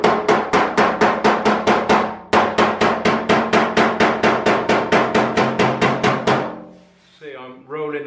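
Panel hammer striking dented car bodywork with glancing, rolling blows: a steady rapid series of about thirty close, loud metallic taps with a brief pause partway, then a short murmur of voice at the end.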